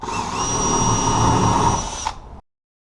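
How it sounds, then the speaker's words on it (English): A power drill whines steadily at high speed for about two seconds while pre-drilling a roughly 1/8-inch hole for a water heater strap, then cuts off abruptly into silence. "you can pre-drill about an 1/8 inch hole"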